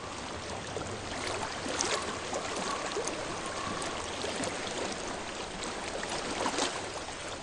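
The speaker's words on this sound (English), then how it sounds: "I hear water." Flowing stream water in a PS4 game: a steady, broadband rush and trickle that holds an even level throughout, with no voices over it.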